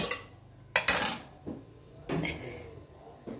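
A lid comes off a pot of pulao with a metallic clank, followed by a few lighter clinks of metal against the cookware, spaced out with quiet between them.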